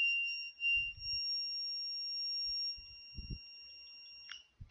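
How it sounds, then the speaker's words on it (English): A steady high electronic buzzer tone from an Arduino gas leakage alarm, sounding continuously for several seconds with faint handling noises and a brief knock at the end. "Till the gas presence on the sensor, the buzzer will goes on."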